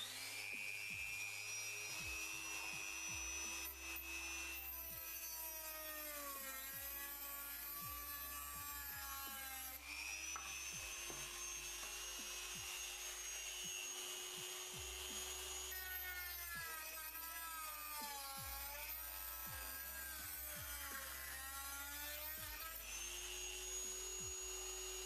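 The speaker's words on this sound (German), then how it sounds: "Wir nehmen wieder diese Kreissäge vom Dremel her und schneiden das Ganze hier natürlich schön runter." A small Dremel rotary circular saw whines steadily as it cuts through material for an ant nest setup, its pitch sagging under load in long repeated passes over a low motor hum, with no talk.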